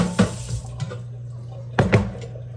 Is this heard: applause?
no